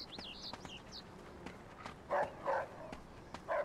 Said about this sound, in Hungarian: Ugat a kutya.